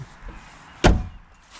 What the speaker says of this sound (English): I love the sound of that door shutting.